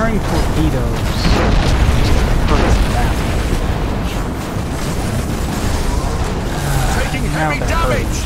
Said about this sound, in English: Firing torpedoes.